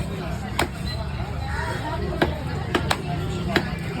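A knife chops through fish on a board, with sharp thuds landing at irregular intervals, about five distinct strikes close by over a low background hum.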